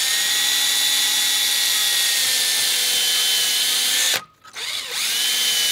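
A power drill fitted with a unibit step bit whines at a steady high pitch while boring a hole, close and loud, then briefly stops and restarts near the end.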